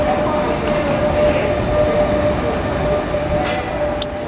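A Barcelona metro train rumbles loudly and steadily with a continuous roar, a faint whine and a few brief squeals and clicks near the end, heard from close by.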